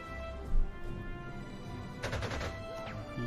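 Artillery shells fire and land in a Panzer Corps 2 battle, with a short dull thump near the start followed by a brighter crackling burst a bit later, all fairly quiet and distant.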